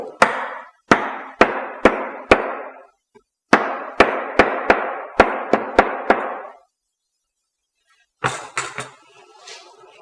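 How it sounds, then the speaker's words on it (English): Hammer strikes fixing a metal clip onto a bag, a series of sharp close impacts in two quick rhythmic bursts of about five and seven blows, then a brief rattling clatter. "you use the hammer to fix it in place very well."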